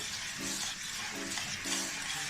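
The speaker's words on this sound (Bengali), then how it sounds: "চিনির দানাটা যতক্ষণ গলে যাবে ততক্ষণ আমি এটাকে ফেটিয়ে যাব" Two eggs and 125 g of granulated sugar are whisked into palm cake batter in a bowl, making soft, rhythmic scraping strokes in repeated bursts, quiet and close, with no voices.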